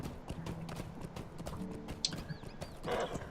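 Horse hooves clip-clop in Lord of the Rings Online as a slow mount moves barely faster than walking pace, giving a steady, close rhythm of hoof strikes with an occasional faint chime.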